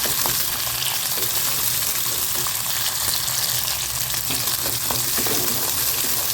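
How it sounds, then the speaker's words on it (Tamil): Small onions sautéing in a pan for a black kara chutney, a dense, even sizzle that stays loud and close, with faint stirring ticks underneath and no talk. "வெங்காயம் பாருங்கள் அளவுக்கு நல்லா வதங்கிடுச்சு"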